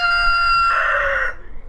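A rooster crows once, loud and close, with a drawn-out harmonic call that ends abruptly, followed by faint background noise.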